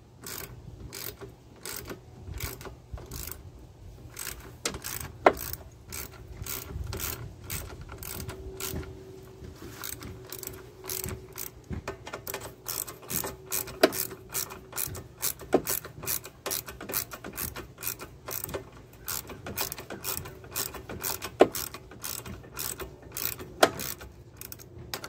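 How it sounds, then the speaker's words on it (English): Ratchet with a 10 mm socket snugging the carburetor bolts on a Honda push mower: quick, steady trains of faint clicking strokes repeat throughout, with brief pauses and occasional metallic taps, close and alone. "tighten it back up with the 10 millimeter."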